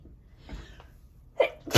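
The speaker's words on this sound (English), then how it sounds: "I think I have to sneeze." One person sneezes indoors: a faint breathy intake, then a sharp close burst at the end, near the mic.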